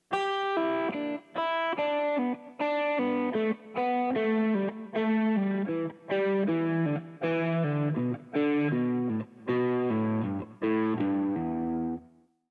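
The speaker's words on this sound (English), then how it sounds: "If you play the scale descending in 3s using pull-offs, it would sound like this." An electric guitar runs a fast descending scale in repeated three-note groups, the notes slurred smoothly with pull-offs, with brief gaps between phrases; no talking.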